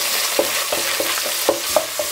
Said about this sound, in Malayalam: കൊച്ചുള്ളി ചേർത്ത് നല്ല ഗുണമൊന്ന് വഴറ്റിയെടുക്കാം.